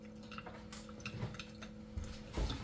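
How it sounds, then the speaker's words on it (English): Water trickling and dripping through a Water First countertop RO filter system being flushed, with soft irregular drips and light liquid patter, quiet and close, plus a faint steady hum underneath. "I really want to run this water through because I'm supposed to run this through a couple times in order to get the filter charged"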